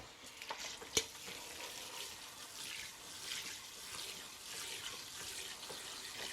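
Sushi rice is rinsed under running water, giving a steady, soft hissing rush of water with faint sloshing and one sharp clack near the start, fairly quiet and without talk.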